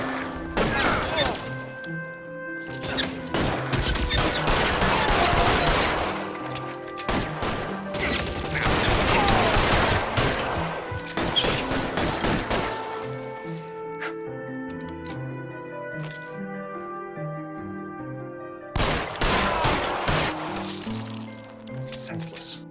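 Gunfire in the LA Noire video game: loud, dense bursts of shots rattle out in several volleys over a steady musical score.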